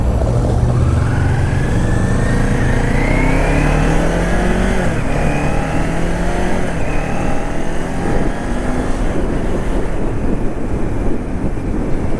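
A car accelerates hard in top gear toward triple-digit speed, its engine drone rising steadily in pitch over a constant loud wash of road and wind noise, with no talking.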